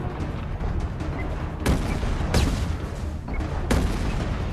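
Rocket launcher fire in the Mass Effect 2 Arrival DLC, with three sharp, loud blasts spaced about a second apart over constant dense battle noise.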